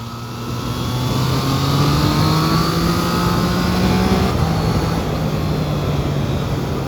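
A Triumph Trident 660 motorcycle engine accelerating out of a near-hairpin bend, a loud steady rising drone with climbing engine tones through the gear, close and sustained with no talk.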